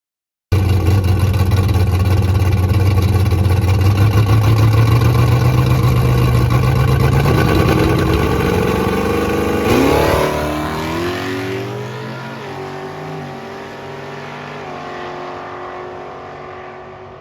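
A loud drag race car revs hard and launches down the Texas Motorplex strip at full throttle on a mid 9-second pass, the roar climbing steadily in pitch, then shifting and fading slightly into the distance.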